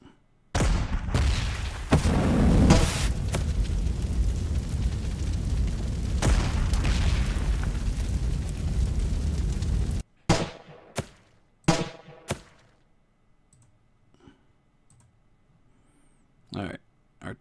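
Artillery fire and explosions in the World War II strategy game Panzer Corps 2, Poland 1939 campaign: a long loud booming barrage, then several sharp isolated blasts and clicks, with someone talking.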